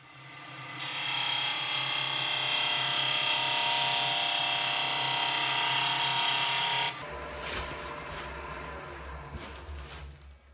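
A wood lathe gouge cleans up the rim of a spalted apple ogee bowl, a loud continuous tearing hiss lasting about six seconds before cutting stops and the lower motor drone carries on.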